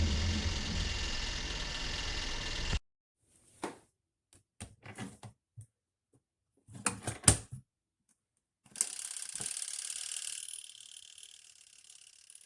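A portable compact twin tub washing machine runs with a steady broadband churning roar, stops abruptly, then gives scattered knocks and clunks before starting up again with a brighter hum.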